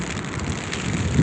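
Steady rain pours outdoors on a bridge walk, a dense, even hiss of drops with a low rumbling wash beneath, close and continuous without any talk.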